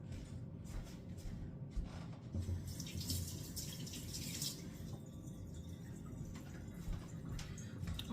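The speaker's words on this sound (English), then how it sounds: "let me go rinse off my hands." Water from a kitchen tap runs steadily while hands are rinsed during meal prep, a faint continuous splashing flow with no talking.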